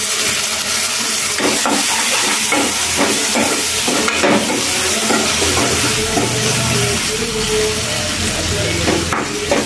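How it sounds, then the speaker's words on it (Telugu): Finely chopped tomato pieces cook in hot oil for a mixed vegetable curry, giving a loud, dense, continuous sizzle and hiss close by, with repeated scraping and stirring strokes of a spoon. "కొంచెంసేపు ఆయిల్లో టమాటా ముక్కలు మగ్గించుకోవాలి।"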